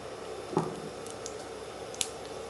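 Boiled, unsalted potatoes being mashed for potato bonda, giving one short, soft squish early on and a faint click later, over a quiet kitchen background.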